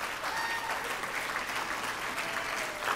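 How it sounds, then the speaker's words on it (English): Audience applause at an awards ceremony for Primetime Emmy Awards, a steady, dense wash of clapping filling the room continuously without talk. "A round of applause, please, for all of the dedicated individuals at those companies."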